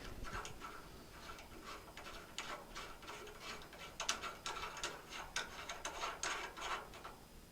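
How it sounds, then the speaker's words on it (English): Castle nut being unscrewed on a T350 butt stock during a stock replacement, heard as a rapid series of small dry ticks and rasping clicks, close and fairly faint, quickening toward the end. "And unscrew that castle nut all the way."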